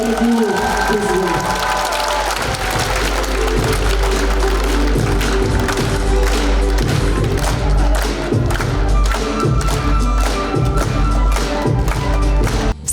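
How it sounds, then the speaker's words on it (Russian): Applause from an audience at the premiere of the first Tuvan musical, steady clapping filling the hall for several seconds with thumps and taps mixed in. "Ваши аплодисменты, дорогие друзья."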